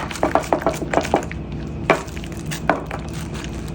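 A knife cuts through cooked steak on a board in a home kitchen, making a handful of close, sharp chopping taps in an uneven rhythm with short pauses between.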